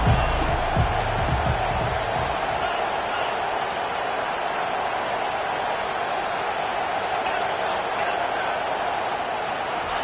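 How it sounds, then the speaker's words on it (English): Stadium crowd roar in College Football 25, a dense, continuous wall of cheering and noise held steady at full level, with a commentator's voice briefly at the start. "This crowd bringing the energy and noise early."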